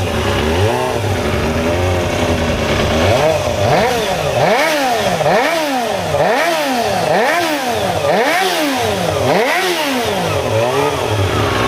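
A Kawasaki ZX250 motorcycle engine revs repeatedly toward 18,000-20,000 RPM, loud and close, each sharp rising-and-falling wail following the last in a steady rhythm with no talk.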